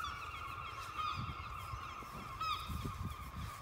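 Loud honking calls from a goose or similar fowl sound at night, a sustained nasal cry repeated a few times against a quiet background, with no talking.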